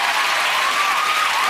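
A television studio audience gives Simon Cowell a loud, continuous wash of applause, thick and even throughout with no voices rising above it.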